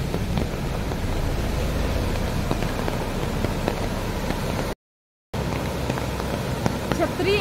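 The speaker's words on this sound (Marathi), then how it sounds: "पाऊस चालू झालाय आता." Rain falls steadily outdoors beside a road with passing vehicles, a dense, even patter close by that continues throughout, broken only by a brief silent gap.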